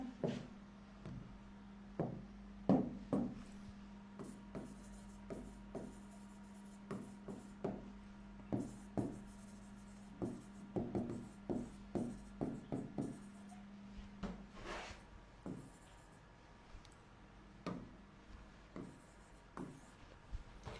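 A pen scratches across paper in short strokes and taps, quiet and close, with irregular pauses between words being written, against a faint steady hum.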